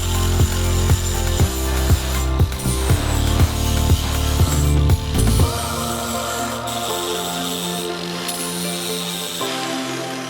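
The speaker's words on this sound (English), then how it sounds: "After we ground down the welds" An angle grinder works down welds on a rusty 1965 Ford Falcon fender, loud and close, with a rhythmic series of about a dozen gritty pulses before the tool winds down into a lingering whine and hum.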